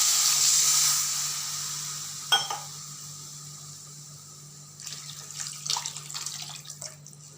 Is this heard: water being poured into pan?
yes